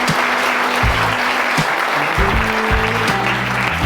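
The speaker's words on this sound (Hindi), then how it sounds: "तालियां बजाइए जोरदार अपने लिए।" Loud, dense applause from a crowd of students at a model school in Sardarpur, Dhar, filling the room steadily throughout. A sustained hum or tonal sound runs underneath it.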